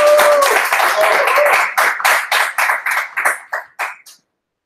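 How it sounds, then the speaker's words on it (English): Meetup audience claps to welcome a speaker before a deep learning talk, a dense burst of applause that thins into separate scattered claps and dies out after about four seconds, with no talking. "Big round of applause"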